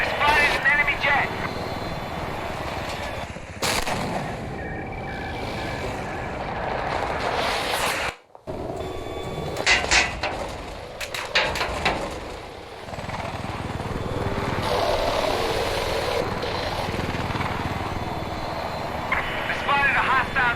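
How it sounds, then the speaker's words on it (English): Enemy jet engine roar in a PUBG-style shooter battle, a loud sustained rumble under busy game noise and radio voice callouts, with a brief drop near the middle. "I spotted an enemy jet. Enemy jet spotted."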